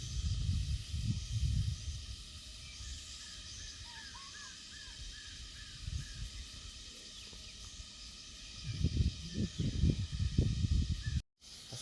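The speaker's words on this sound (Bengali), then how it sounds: "ঝিঝি পোকার ডাক" Crickets chirp in a deep jungle at night in Sitakunda, Chittagong, forming a steady high drone, with scattered bird calls and a few low rumbling bursts of nearby handling or wind.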